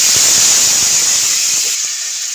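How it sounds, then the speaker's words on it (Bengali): Tomato paste hits a hot pan with a loud, steady hissing sizzle that sounds close and fills the whole moment, then eases slightly toward the end. "আগে থেকে আমি পেস্ট করে রেখেছিলাম টমেটো, ওটাকে দিয়ে দেবো"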